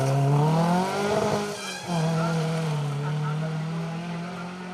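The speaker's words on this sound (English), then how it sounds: "Andy Browns and Adam Dognini in their Fulvia 1600 HF full Group 4 spec car" A Lancia Fulvia 1600 HF in full Group 4 rally spec runs a historic rally stage, its engine loud and close with a steady note that dips briefly around a gear change before pulling on again.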